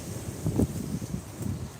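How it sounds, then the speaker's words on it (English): Wind gusts buffet a microphone on Eastbourne beach during a sea fishing session, a low rumbling roar that swells and fades in uneven surges. "it's getting a bit windy here, mate"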